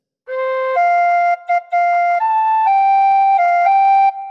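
A tin whistle plays the opening phrase of Auld Lang Syne, clear, bright sustained notes stepping through the melody with one short break, close and loud, with no talking.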